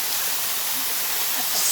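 Chafnath waterfall pours down as a steady, dense hiss of falling water, heard alone for a brief stretch.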